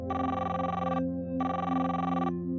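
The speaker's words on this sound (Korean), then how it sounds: "다시 한번 전화벨이 울려옵니다." A telephone rings in two long electronic bursts with a short pause between them, steady and fairly close.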